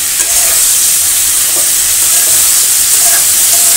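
Bata fish and eggplant fry in an oiled pan as they are stirred, producing a loud, steady hissing sizzle with occasional soft clicks of the utensil throughout.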